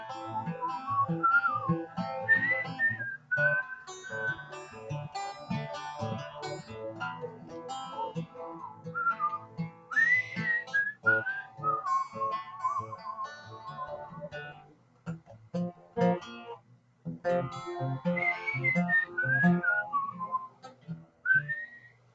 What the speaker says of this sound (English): Let me try and just whistle this.